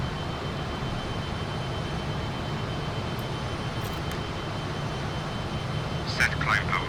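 Steady engine roar of a Fokker F28 Fellowship jetliner climbing in a flight simulator, a constant broadband drone that continues unchanged, with a few faint clicks near the end.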